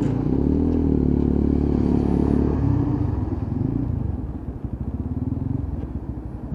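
Lexmoto ZSX-F 125cc motorcycle ticking over at a low, steady idle close by, a loud continuous rumble that settles into a softer, pulsing beat, with no talk over it.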